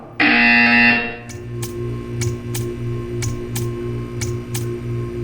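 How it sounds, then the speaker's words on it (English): A buzzer in the Portal 2 video game sounds first as a loud sustained electronic tone for about a second, then gives way to a steady pulsing hum broken by regular sharp ticks, with no voices. "You will hear a buzzer."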